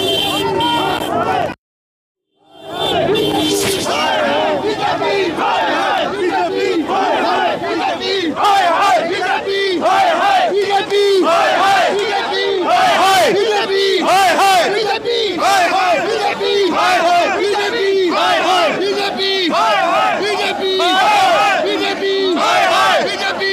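A crowd of party workers shouts and chants loudly and continuously as police push them back with lathis. The roar is dense and close, with a brief cutout near the start, and vehicle horns sound faintly in the mix.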